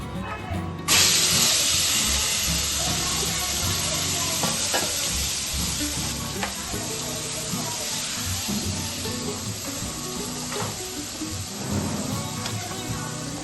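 Marinated mutton pieces sizzle and fry in hot oil while being stirred, a steady loud hiss with scraping stir sounds throughout.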